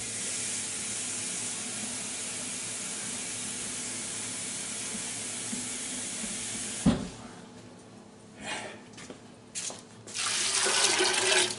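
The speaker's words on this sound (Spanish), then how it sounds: "pues echamos el agua" Water pours steadily into a cooking pot for a Granada-style empedraillo stew, a close, continuous rushing hiss lasting about seven seconds. It then stops abruptly, leaving faint, intermittent kitchen clatter and splashes.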